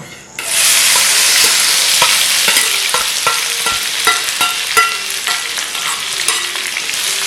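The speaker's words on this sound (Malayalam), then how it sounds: "വെളുത്തുള്ളിയും ചുവന്നുള്ളിയും കൂടി ഒപ്പം ചതച്ചത് ഇത് അതിലേക്ക് ഇടുന്നു" Crushed garlic and shallots hit hot oil with a loud, steady sizzle that holds throughout, broken by scattered clicks and scrapes of stirring in the pan; no voices.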